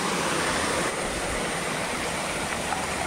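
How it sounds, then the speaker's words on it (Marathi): A hill stream on the Rajmachi fort trek rushes in a steady, dense wash of water noise that holds at an even level throughout, with no voices. "तर हा ओढा आहे"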